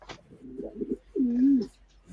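A pigeon coos close by, a soft low throaty call with a short warble followed by a longer drawn-out coo, fairly quiet and alone.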